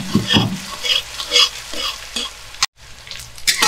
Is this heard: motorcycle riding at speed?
no